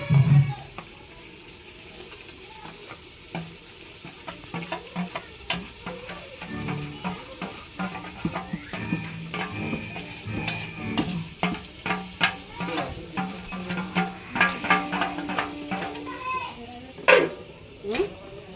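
Onion paste sizzles in a pan of chicken curry with wild greens while being stirred, giving repeated scraping and clinking strokes over a steady fry; voices talk intermittently over the cooking.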